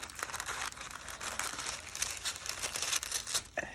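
Scissors cut a piece of paper for a junk journal tag, giving a soft, close crinkling and snipping rustle for a few seconds, quiet and without voices.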